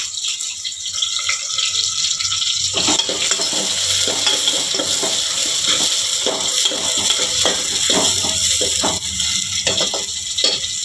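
Onions hit hot oil in a pan in a village-style kitchen, crackling and sizzling steadily with scattered pops and the scrape of a stirring spoon.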